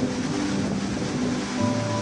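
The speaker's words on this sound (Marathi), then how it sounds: "घटप्रभा जेव्हा पूर्वेच्या दिशेनं वाहत येते तेव्हा वाटेतल्या एका घळईत कोसळते आणि तयार होतो गोकाक फॉल्स" Gokak Falls, a 171-foot-high, 581-foot-wide waterfall where the Ghataprabha river plunges into a gorge, gives off a steady broadband roar, loud and unbroken throughout, with no voices.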